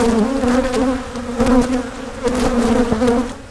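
A loud, dense buzz of stirred-up honeybees at the front of a hive swarms close by, droning continuously with slight rising and falling surges.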